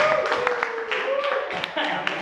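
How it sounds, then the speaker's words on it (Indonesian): A class of students applauding in a classroom, with a burst of quick, uneven clapping from several people that mixes with voices and a faint tone in the background. "Tepuk tangan dulu buat Mas Irfan"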